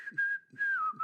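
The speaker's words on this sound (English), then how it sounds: "I started whistling as I made sure all was ready" A person whistles a short melodic phrase, a clear tone that shifts pitch with a brief pause midway, heard close and alone in a quiet space.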